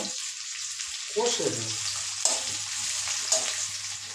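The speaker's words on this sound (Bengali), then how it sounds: "দুটো বড় সাইজের পেঁয়াজ কুচে নিয়েছি আর আমি এগুলোকে নেড়ে চেড়ে ভেজে নেব" Two large chopped onions hit hot oil in a pan while cooking a river crab curry, bursting into a loud hiss that settles into steady sizzling, with occasional scrapes as they are stirred and fried.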